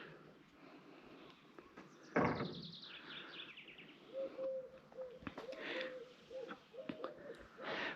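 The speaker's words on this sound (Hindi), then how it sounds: "परिंदों और चिड़ियों की आवाज़ें सुनो बस" Birds chirping and cooing outdoors in Zakopane, Poland, a few calls repeating at moderate distance, with a sharp knock partway through.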